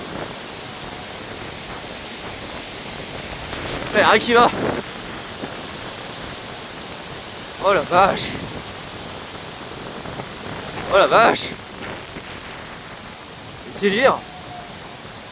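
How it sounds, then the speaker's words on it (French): Strong wind gusts roar steadily through a valley, a broad rushing noise close to the microphone, while a man exclaims in brief outbursts several times. "Le bruit du vent dans la vallée."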